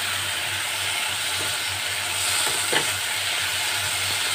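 Bitter gourd chorchori frying in oil with spices and salt in a pan, stirred steadily, giving a continuous close sizzle with a soft scrape of the spoon partway through.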